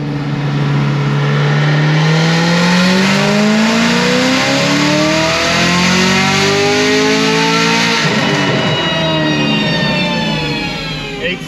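A 1000 hp Stage 4 Camaro ZL1 engine screams through a long dyno pull, rising steadily in pitch to a loud, sustained wail near the top before easing off, very close and dominant.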